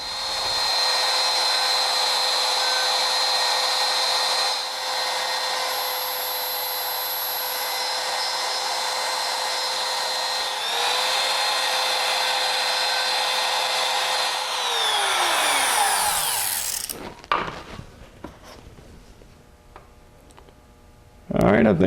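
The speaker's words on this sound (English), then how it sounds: "using the 1/4 inch ball burr bit, I believe, was the way to go on this cut" A 1/4 inch ball burr bit in a rotary tool cuts a drag race Powerglide transmission part, a sustained high-pitched grinding whine that slows and winds down near the end, followed by brief handling clatter.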